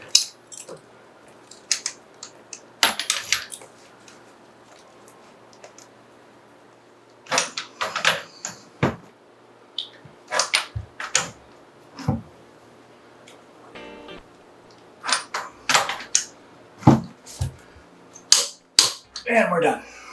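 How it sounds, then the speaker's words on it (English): A torque wrench tightens fittings on cold-climate heat pump lines, giving sharp metallic clicks and clacks in uneven bursts separated by quiet gaps, close and fairly loud. "I've got my torque wrench preset for 50."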